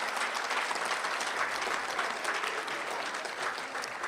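Sustained audience applause at a school board meeting, dense steady clapping from a room full of people that carries evenly with no break.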